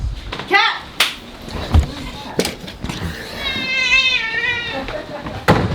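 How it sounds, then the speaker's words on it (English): A cat meows several times nearby in western North Carolina, with a long drawn-out meow near the end, between sharp clicks and knocks and a person speaking briefly. "Cat!"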